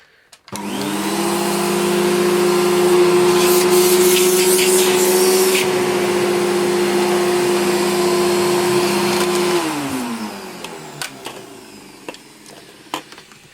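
An Electrolux Contour Supreme 800W vacuum cleaner starts up and runs loudly with a steady droning whine, then powers down and winds away, leaving a few faint knocks.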